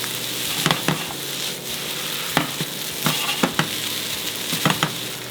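Frozen seafood and pre-cooked rice stir-fried together over medium heat for a pilaf, giving a steady close sizzle broken by repeated sharp scrapes and clatters of the spatula in the pan.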